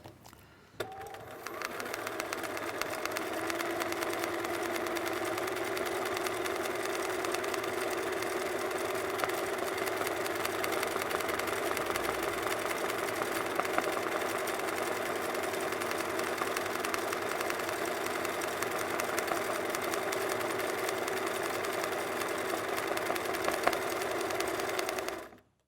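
A sewing machine stitches two parallel rows of zigzag for machine embroidery, running as a steady, continuous motor hum with a fast needle rhythm from start to finish, close and fairly loud, with no talking.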